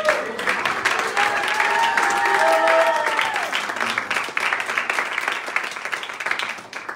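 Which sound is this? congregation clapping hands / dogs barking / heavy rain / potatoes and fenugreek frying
congregation clapping hands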